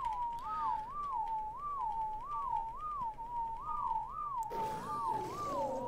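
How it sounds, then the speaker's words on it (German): Whistling command in the video game ARK, a repeated rising-and-falling whistle looping about nine times at a steady rhythm over low background noise, with a burst of other game sound near the end. "So, Pfeifen."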